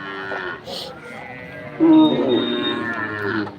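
A cow moos loudly nearby at a cattle market, a drawn-out low call, with faint voices and light background activity around it.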